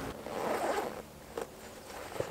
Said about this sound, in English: It has a big kangaroo pouch with a double zip.